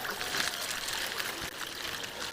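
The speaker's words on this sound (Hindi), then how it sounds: "इस तरीके की नालियों से पानी जगह जगह इस तरीके से पानी यहाँ से निकलता है, जो झरना बनता है।" Steady rushing water runs through small channels along a mountain path on Brahmagiri hill, a continuous broadband wash close to the microphone, with no voices.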